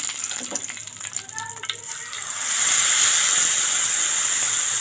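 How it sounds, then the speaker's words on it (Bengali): Whole cumin seeds and a bay leaf hit hot oil in a pan, starting with light scattered crackles and then settling into a loud, steady sizzle that holds to the end, with no voices. "এখন দিয়ে দেব সাদা জিরে পেস্ট, সাদা জিরে, গোটা সাদা জিরে আর তেজপাতা ফোড়ন"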